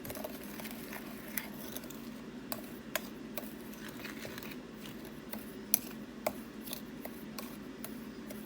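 A spoon stirs Tony's seasoning into a mixture in a bowl, making soft, continuous scraping and rubbing with faint, irregular clinks against the bowl, quiet and close.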